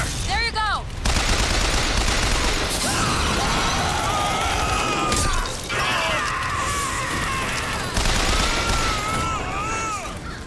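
Gunfire in the video game Bioshock Infinite during a Shantytown police impound fight: repeated rapid shots mixed with smashing, crashing impacts and whistling effects, loud throughout, with a voice talking at times.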